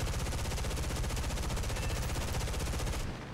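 Machine guns of an F8F-1 Bearcat fighter in War Thunder fire a tracer belt in one loud, continuous rapid burst lasting about three seconds, then cut off abruptly.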